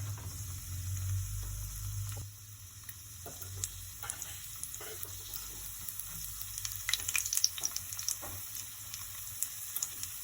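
A fish fillet fries in hot oil in a small miniature-cooking pan, giving a steady close sizzle with light crackles and faint scraping, and no one speaks.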